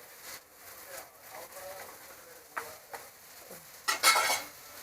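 Beef curry being stirred in a pot, soft intermittent scrapes and clinks of a spoon against metal, ending in a louder clatter, close by with faint background sounds.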